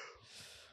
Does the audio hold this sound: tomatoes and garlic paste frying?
no